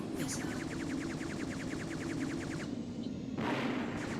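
Enemy gunfire in the Battle Engine Aquila video game rattles in a rapid burst of repeated shots over a low rumbling battle din, then pauses briefly before another blast of noise.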